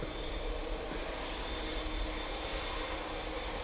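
Jet engines on a Eurowings airliner spool up at Manchester Airport, giving a steady, broadband whooshing roar at moderate distance that holds even throughout.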